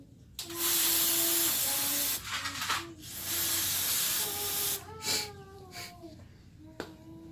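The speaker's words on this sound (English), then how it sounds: "I'm gonna spray some brake cleaner instead." Loud bursts of brake cleaner aerosol spray hissing in short and long blasts during a brake pad and rotor job on a 2010 Nissan Murano, with faint squeaks and clicks between them.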